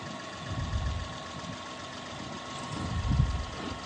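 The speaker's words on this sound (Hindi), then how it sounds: "देखो गाड़ी कैसे स्लिप हो रही है, आप देख सकते हो।" An off-road vehicle's engine rumbles steadily while the car slips on a rough track near a waterfall in the Konkan region, swelling in two low surges.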